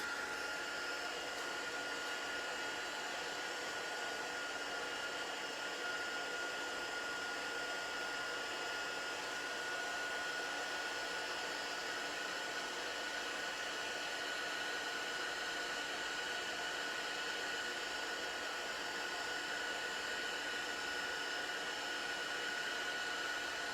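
A heat tool melting embossing powder runs as a steady, faint, continuous blowing whir with a thin tonal whine, unbroken for over twenty seconds with no talking.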